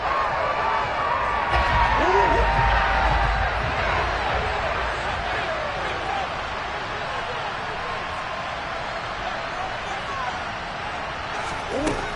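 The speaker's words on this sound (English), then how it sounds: "How about some applause for the defense there?" A large stadium crowd at an American football game roars and cheers steadily at a distance, swelling early then settling into a sustained din, with a commentator talking over it.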